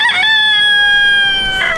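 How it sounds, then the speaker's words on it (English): A rooster crows loudly and close by on a farm with chickens and ducks about, one long drawn-out harmonic call framed by brief clucks at the start and end, no talk. "We got chickens everywhere."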